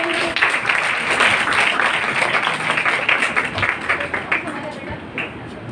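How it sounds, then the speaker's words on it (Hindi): Sustained audience applause fills the hall for a student award at a college poster competition, a dense even clatter of many hands throughout with slight rises and dips. "बहुत सी तालियों में इस्तकबाल करें।"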